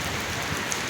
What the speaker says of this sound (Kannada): ಗಾಳಿ ಮಳೆ ಬರ್ತೈತೆ ಅಣ್ಣ.